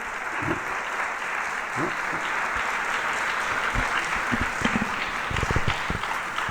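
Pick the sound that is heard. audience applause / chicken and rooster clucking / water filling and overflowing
audience applause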